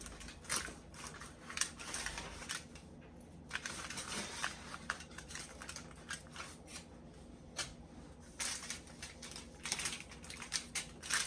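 A knife or pizza cutter slicing through a baked Red Baron cheese pizza, giving close, quiet crunchy cutting strokes in an irregular series with brief pauses.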